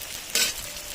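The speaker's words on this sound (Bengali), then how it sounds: "ভালো করে নাড়াচাড়া করে হালকা ভেজে" Spices with chopped onion and tomato are stirred in a hot pan as they fry lightly, giving one brief, close scraping swish over a soft background sizzle.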